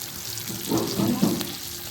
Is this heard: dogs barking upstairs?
no